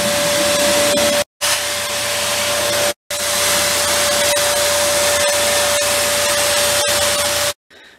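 A vacuum cleaner runs inside an RV, a loud steady whine with a constant tone, cutting out briefly twice and then stopping near the end.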